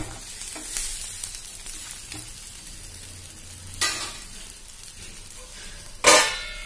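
Sarva pindi, a Telangana rice flatbread, roasting in a pan with a low steady sizzle and a few sharper spatula scrapes or flips, one loud near the end, no voices.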